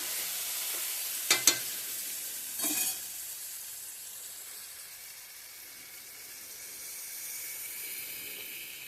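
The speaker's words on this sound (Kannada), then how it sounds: "ಈಗ ನೋಡ್ರಿ ನಮ್ಮ ಮುಳಗಾಯಿನೂ ಫ್ರೈ ಆಗ್ಯಾವ" Brinjals frying in a pan as masala goes in for a brinjal palya; a soft, close sizzle with a couple of sharp scrapes and clatters early on, then fading to a low hiss with no talking.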